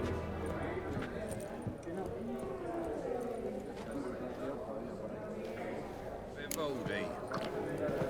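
Horse hooves clip-clop steadily in The Witcher 3, a fantasy role-playing game, running under a dense bed of game ambience and voices.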